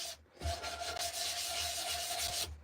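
Sandpaper rubs steadily over a hand-carved wooden spoon in one close, continuous stroke lasting a couple of seconds, with short pauses at the start and end and no talking.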